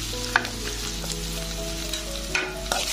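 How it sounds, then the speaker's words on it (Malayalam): Ginger and onion sauté in hot oil with mustard seeds for a cut mango pickle, giving a steady close sizzle with a few sharp stirring clinks and spatula scrapes throughout. "ഇഞ്ചി ഉള്ളിയൊക്കെ ഏകദേശം നല്ലപോലെ ഒന്ന് വഴണ്ടി കിട്ടിയിട്ടുണ്ട്"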